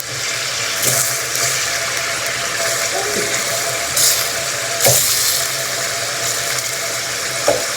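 Pieces of fish fry in hot oil, a steady close sizzle with a few sharp clinks and scrapes of a utensil breaking through at intervals.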